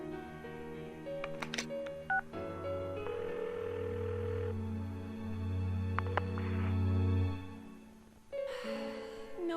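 Phone dialing in the video game Persona 4: a series of electronic dial tones and beeps, then a sustained ringing tone, clear and close without speech.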